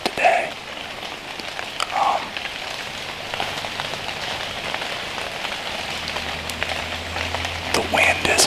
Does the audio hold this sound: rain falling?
yes